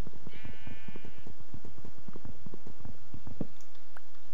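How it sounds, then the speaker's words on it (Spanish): A sheep bleats briefly in Minecraft, a short wavering cry near the start layered over a steady run of rhythmic thuds and game sounds that continue for several seconds. "Vamos a matar ovejas."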